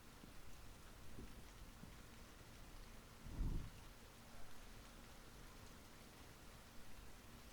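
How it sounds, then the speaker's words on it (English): Steady, soft rain hiss with a brief low rumble of distant thunder midway through. "we're gonna listen to some rain sounds as well"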